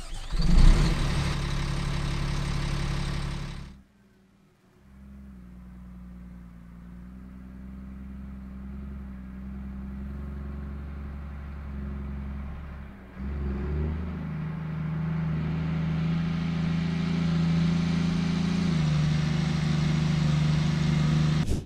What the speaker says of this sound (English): Let's take a listen to the LAV-25 engine.